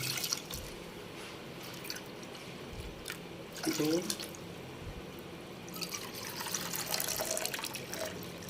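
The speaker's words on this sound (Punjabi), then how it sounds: "ਤਿੰਨ ਕੌਲੀਆਂ ਆਪਾਂ ਇਹ ਪਾਣੀ ਦੀਆਂ ਪਾ ਲਾਂਗੇ" Bowls of water poured into a pot holding broken jaggery for sweet rice, a few soft splashing pours and drips, with a voice counting briefly.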